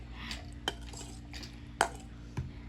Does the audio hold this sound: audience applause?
no